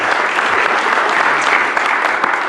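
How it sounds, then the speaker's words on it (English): Loud, dense round of applause from an audience at an anniversary gathering, continuous and even throughout with no talking over it. "let's give Mike Wilson a big round of applause"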